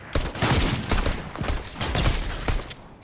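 Fortnite squad gunfire: rapid bursts of shots crackle loud and close in several clusters, with brief gaps between volleys and no talk over them.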